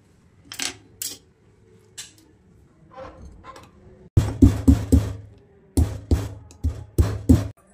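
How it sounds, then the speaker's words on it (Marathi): Dried coconut pounded in a mortar, sharp hard thuds, a few sparse strikes at first, then quick bursts of three to four close, loud blows with brief pauses between them. "आपण आहे ना हे असं उकळात कुटणार आहोत."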